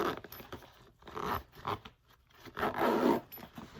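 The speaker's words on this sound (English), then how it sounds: "and zip it up and let the tubing come out" A feeding tube backpack is zipped closed in a few short, close, scratchy zipper pulls with pauses between, quiet and without talk.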